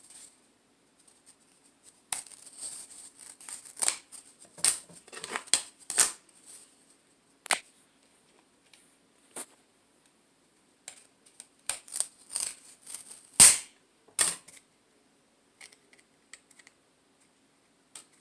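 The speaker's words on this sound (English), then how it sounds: "you're going to peel the letters, the numbers off" Number stickers peeled by hand off Dollar Tree wooden rulers make crisp, close crackles and short ripping bursts, scattered and irregular, with quiet pauses between them and no talking.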